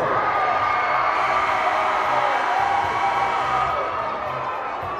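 Crowd at a 6A state tournament boys basketball game between West Jordan and Pleasant Grove at Weber State's Dee Event Center, a loud steady roar of cheering and whoops filling the arena throughout.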